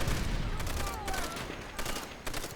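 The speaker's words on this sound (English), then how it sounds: "Run around with a machine gun, fire it from the hip" Machine gun fired from the hip in Call of Duty: World at War, a dense run of loud bursts and volleys spread across the whole moment with no pause.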